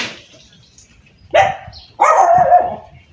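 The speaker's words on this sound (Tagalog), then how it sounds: "daming aso" Dogs in a semi-rural subdivision in General Trias, Cavite give two short bursts of barking, fairly close, separated by quiet outdoor pauses.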